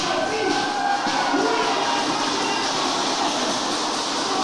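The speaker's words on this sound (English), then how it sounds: "Wow, listen to this crowd." A wrestling crowd at an Ohio Championship Wrestling event roars loudly and continuously, a dense wash of cheering that swells slightly and holds steady throughout.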